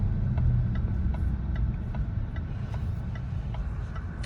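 A 2017 Range Rover's engine hums low and steady from inside the cabin while driving, a constant rumble with faint road noise and no talk.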